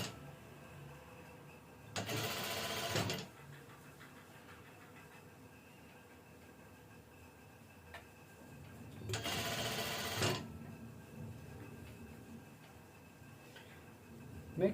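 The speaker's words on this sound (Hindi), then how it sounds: "ये ऊपर के हिस्से पे 1/2 इंच का अलावेंस और 1/2 इंच पर सिलाई मार लेंगे।" Sewing machine stitching a half-inch seam on an off-shoulder padded dress, running in two loud whirring bursts of about a second each, separated by a long stretch of quiet.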